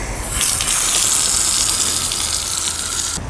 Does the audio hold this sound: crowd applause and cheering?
no